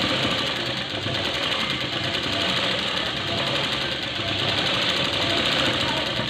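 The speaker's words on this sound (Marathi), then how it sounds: "शिलाई मारून घ्यायची।" A sewing machine stitching along the edge of a net neckline, a steady, dense mechanical whir running unbroken and close throughout.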